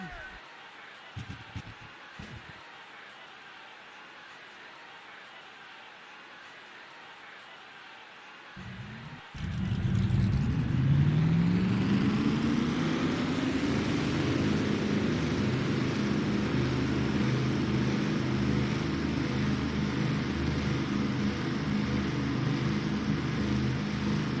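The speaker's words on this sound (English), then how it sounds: "Drivers, start your engines!" Race car engines in a sim racing video game firing up at a Toronto stock car race, with a faint start before a loud rumble kicks in and holds as a sustained revving roar.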